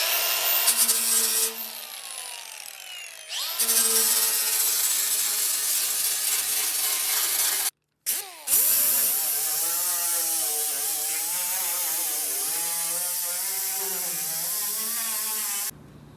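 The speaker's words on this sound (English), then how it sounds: "I'm gonna clean that weld up just a little bit." Power tool cleaning up a weld on a 1965 VW Beetle steel patch panel, a steady high whine with a grinding rasp that shifts in pitch, briefly cutting out midway, close and alone.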